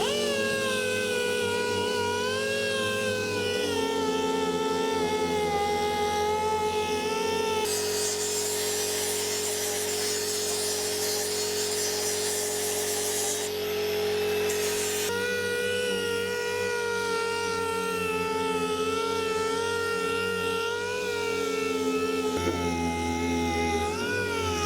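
Power sander working body filler on the bodywork of a widebody MR2 Spyder being fitted with an Impreza STI wing, a steady whining buzz running close and continuous, with a brief harsher stretch partway through.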